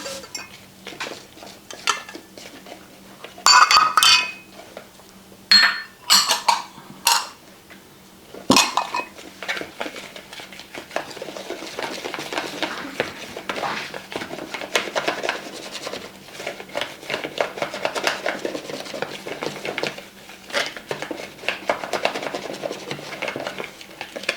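Chicken and dumpling casserole ingredients are stirred together in a bowl, with irregular clattering knocks and scrapes, loud and close at first, then a steadier run of mixing noise.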